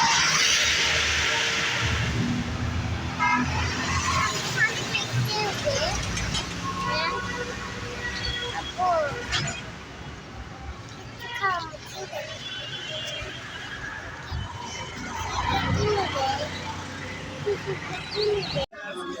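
Busy roadside at Siloniya bazaar on the Noakhali highway in Feni, with continuous traffic rumble, passing vehicles and horn blasts mixed with crowd babble and nearby voices throughout.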